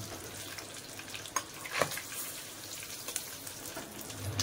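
Mangur fish pieces coated in gram flour fry in hot oil with a steady hiss and scattered sharp pops and crackles, fairly faint and close, with no one talking.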